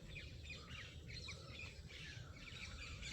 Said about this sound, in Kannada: ಗಿಳಿ ಸೌಂಡು.